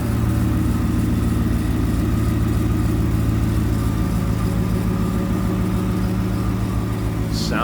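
A 2023 Ford F-150 XLT Supercrew 4x4 with a Roots-style supercharger idles steadily, its low, even rumble loud and constant throughout, with a faint rising whine near the end.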